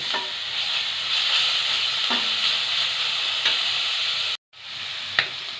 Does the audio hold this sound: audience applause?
no